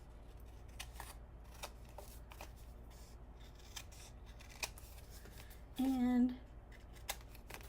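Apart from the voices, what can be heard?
scissors cutting out a small paper square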